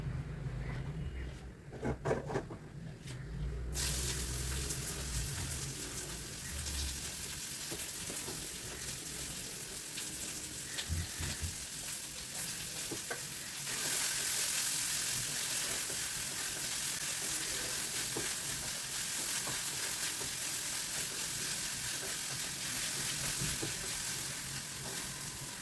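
Minced meat frying in a pan in a home kitchen, a steady broadband sizzle that holds for most of the clip, with occasional stirring scrapes and a louder, brighter stretch partway through, close and continuous with no talking.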